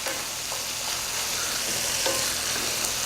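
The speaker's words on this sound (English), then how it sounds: "I do want to periodically stir our onions" Onions for a vegetarian lentil soup frying in a pan, a steady close sizzle with occasional scrapes and clicks of stirring, alone with no talk.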